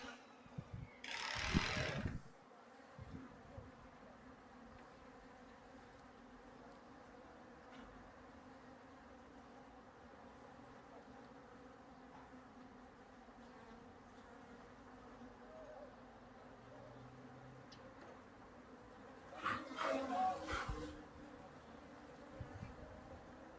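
Honey bees buzz steadily around an open hive during an inspection after two weeks of rainy weather, a low continuous drone with a couple of louder close passes near the start and toward the end.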